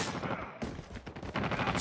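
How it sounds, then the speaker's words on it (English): Automated sentry gun in a Call of Duty game firing dense, continuous rapid bursts, loud and close, with a brief gap partway through, over game noise and voices. "Sentry gun deployed."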